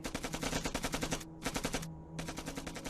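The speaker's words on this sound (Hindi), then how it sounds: "ये जो फायरिंग है ये उनके बंदूक की है।" Automatic gunfire from a battle scene in the Hindi film Bunker rattles in rapid sustained bursts, with two brief pauses between volleys, loud and dense with no speech over it.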